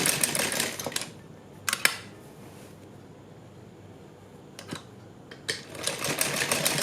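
A sewing machine stitching lace onto a kurti slit runs in short bursts of rapid, close mechanical clatter, with quiet pauses between the runs and a longer run at the end.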